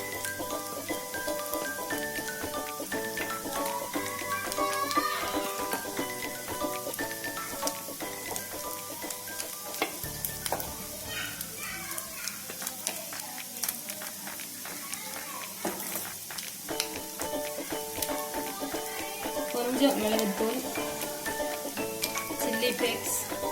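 Egg and boiled basmati rice frying in a pan for homemade Chinese chicken fried rice, with a steady crackling sizzle and scraping stir strokes throughout, a voice talking over the cooking.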